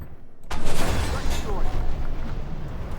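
Tank cannon fire in the game Armored Warfare strikes the player's tank from behind, a sudden loud boom followed by a rumbling, crackling barrage of battle noise with voices over it.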